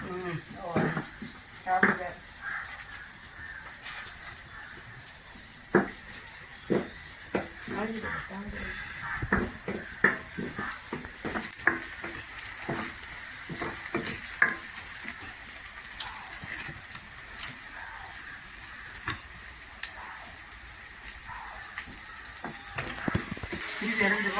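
Chicken curry with tomato frying in a pan in a Jaffna-style home kitchen, giving a steady close sizzle with scattered crackles and stirring clatter throughout, faint talk in the background.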